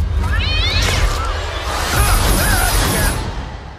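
A cat meows in a Big Hero 6 trailer, a drawn-out close meow rising and falling over a whooshing, busy soundtrack, with no talking.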